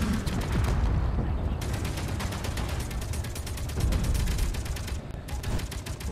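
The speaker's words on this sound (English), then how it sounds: "Who's shooting me?" Rapid, rattling bursts of automatic gunfire in the Space Engineers video game, a dense stream of closely spaced mechanical cracks lasting throughout with brief pauses, loud and near, no talking.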